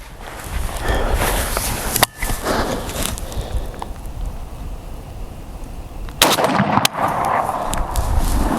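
A rifle fires at a steel target on an outdoor range, shot from standing and kneeling positions. Two loud, sharp cracks come several seconds apart, with rustling and movement noise between them.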